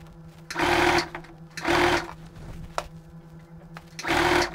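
A sewing machine stitches a fabric strip close to the edge along a dress neckline, in three loud close bursts of rapid whirring separated by quiet gaps with faint handling sounds.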